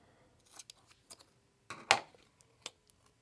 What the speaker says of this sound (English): I'm going to cut off the end